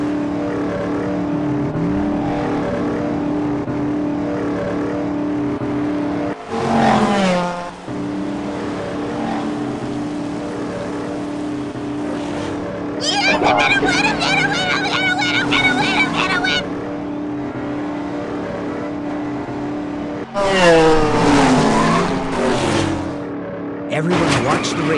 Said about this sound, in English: Vanellope used her glitching to pass the racers, even King Candy.